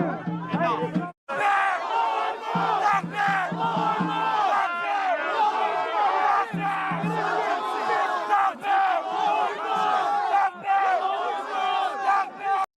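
A dense crowd shouts and yells continuously at close range, many overlapping voices rising and falling with brief pauses.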